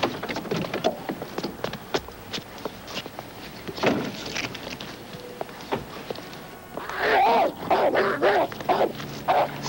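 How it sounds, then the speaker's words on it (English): A guard dog gives scattered short barks and yips, then a louder run of whining whimpers toward the end, close by against quiet indoor background. "There was never a guard dog here before."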